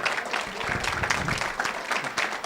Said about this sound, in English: How about a round of applause for this Canadian auctioneer,